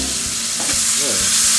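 A fish fillet sizzles loudly and steadily in a skillet just after being flipped, with a faint tap or two of the utensil against the pan.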